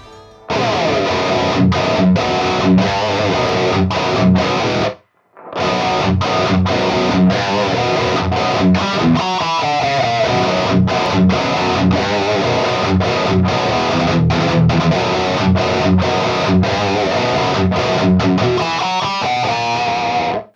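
Distorted electric guitar riffing through an Axe-Fx with a thickened, detuned chorus-like shimmer from two added pitch-shifted stereo voices, steady and loud with one brief pause.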